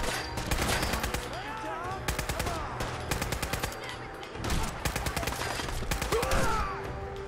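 Rapid bursts of gunfire from a not very accurate but hard-hitting weapon in Fallout 4, fired in repeated volleys across the ruins of the CIT near Kendall Parking, loud and dense over a busy game soundscape.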